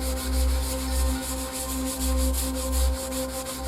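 Rough patches on a ceramic hob are sanded with a hand pad, making rhythmic back-and-forth scratchy rubbing strokes, close and fairly loud, over a steady low hum.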